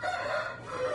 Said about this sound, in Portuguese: O galo que foi do Cristiano Silva